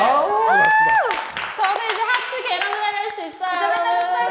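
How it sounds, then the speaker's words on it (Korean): Brief bursts of clapping from a small group at a celebratory gathering, mixed with excited, lively voices talking and exclaiming over it. "박수 박수 박수!"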